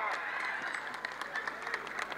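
A crowd at a village wrestling bout claps steadily, the applause coming through a little distant and mixed with background voices.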